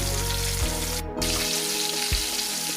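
Pork chops for country fried pork chops frying in hot oil, a loud continuous sizzle and crackle close up with a few brief bubbling pops, no voices.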